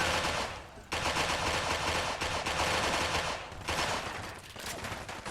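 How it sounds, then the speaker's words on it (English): Institute pistol from Fallout 4, a modded energy sidearm, fires in a dense rapid stream of loud, near shots, with only brief gaps between bursts. "I think it's a sped up version of the energy laser gun from the Aliens."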